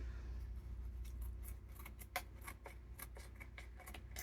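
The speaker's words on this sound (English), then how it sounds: "trim this by hand with some scissors" Scissors snip by hand through the folded edge of a junk journal page, a series of crisp, irregular cuts over a quiet room hum, fairly close and with no talk.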